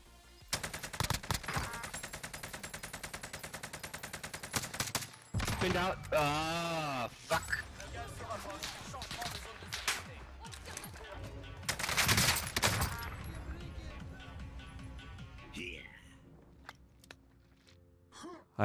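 Video game gunfire arrives in rapid automatic bursts, loud and repetitive, broken by pauses, sharp effects and breathy vocal sounds.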